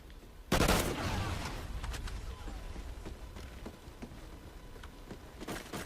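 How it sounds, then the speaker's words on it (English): Semi-automatic gunfire in the video game Call of Duty Ghosts, a sudden loud burst followed by rapid overlapping shots and crackling in-game combat noise that continues steadily to the end. "this gun, it does have a pretty decent damage output, just being semi-automatic"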